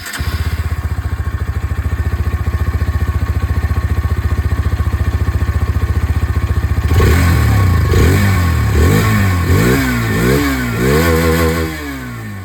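A Hero Xtreme 160R 4V motorcycle idles steadily up close with its exhaust burbling, then revs repeatedly in sharp rising bursts during the second half, loud and without talk.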